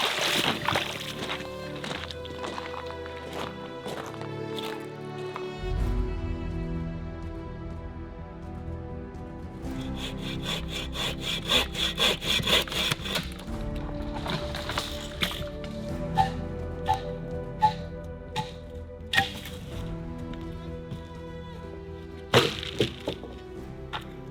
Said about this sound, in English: I'm using the inner wood of an alder tree to make this bow drill set